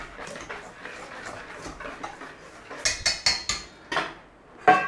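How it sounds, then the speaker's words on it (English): A spoon or whisk stirs salt and cornmeal for cornbread in a bowl, making quick, crisp scraping and clinking strokes that grow louder and sharper partway through. "Give it a mix."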